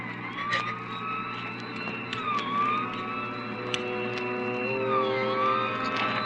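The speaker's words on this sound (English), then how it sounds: "We both heard the siren then." A wailing siren rises and falls steadily, with a continuous engine hum beneath it and a few sharp clicks, no voices.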